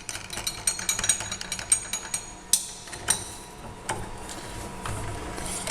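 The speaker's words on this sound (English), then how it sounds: "Spot drill this sucker." Metal being spot drilled on a machine, heard as a run of sharp, fairly loud rattling impacts and clicks at an uneven rhythm, with a few stronger hits, no talking.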